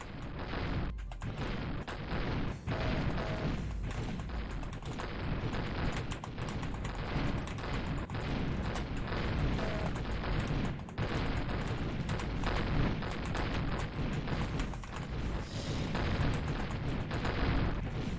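Rocket blasts and heavy weapon fire in FreeDoom boom and crackle continuously, a loud, dense wall of explosions and shots with no pause.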